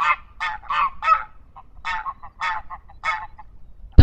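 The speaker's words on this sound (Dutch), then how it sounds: "Zo broeden er nu veel grauwe ganzen hier." Greylag geese honk at a Dutch polder nesting site, sending out a series of loud, nasal calls in irregular bursts, close by and clear against a quiet background.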